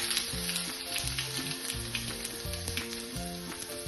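Spices including asafoetida, sesame seeds, turmeric and ginger-chili paste frying in hot oil for matar puri, a steady close crackling sizzle with soft stirring scrapes throughout.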